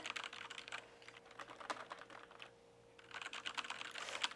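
Close-up typing on a Logitech computer keyboard, bursts of rapid clicking keys with a short pause midway, quiet and near.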